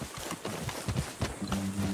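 A horse runs in the Red Dead Redemption 2 video game, with quick, repeated hoofbeats drumming close by and a brief tonal animal sound near the end.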